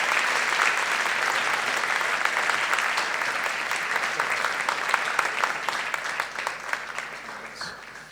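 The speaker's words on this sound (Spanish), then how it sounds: "También le damos un aplauso por haberse acercado a nosotros y haber venido aquí." Sustained congregation applause at a special worship service marking 50 years in Salou, dense and even clapping from a full room that gradually tapers near the end, with no voices on top.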